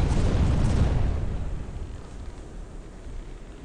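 Heavy cannon broadside from pirate ships in the naval game Buccaneers: a loud, close boom rolls into a long rumbling decay that fades over several seconds, with no talk.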